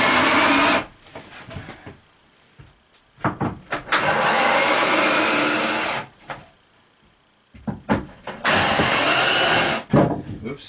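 Bursts of an electric drill whirring as it drives screws while building a workbench, in several runs of varying length, close and loud, separated by short pauses.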